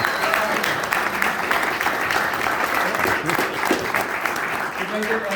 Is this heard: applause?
yes